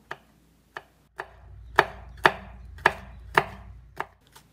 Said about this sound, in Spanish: vamos a seguir picando todo lo demás